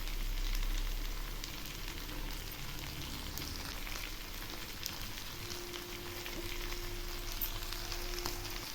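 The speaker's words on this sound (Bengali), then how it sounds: "তেল ছেড়েছে। এখন আমি এর মধ্যে মাছগুলো দিয়ে দিচ্ছি।" Mourola fish frying in hot oil in a pan for a fish chachari, a steady close sizzle running unbroken for several seconds with faint stirring and no talking.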